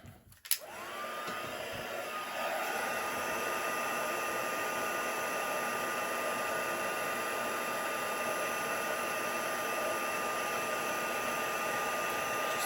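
A heat tool melts embossing powder on a handmade butterfly card, running as a steady, loud blowing whir that starts with a click and holds evenly throughout.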